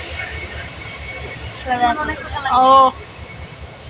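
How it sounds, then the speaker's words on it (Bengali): A departing train's wheels squeal on the rails in a long screech that peaks near the end, over a steady rumble, with a brief voice heard. "গাইজ দেখো ট্রেন ছেড়ে দিয়েছে"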